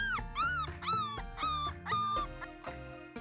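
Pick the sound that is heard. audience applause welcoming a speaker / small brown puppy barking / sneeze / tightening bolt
small brown puppy barking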